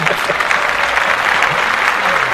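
Dense audience applause fills the room at a podcast taping, steady and loud throughout with no break, a few voices faintly mixed in under the clapping.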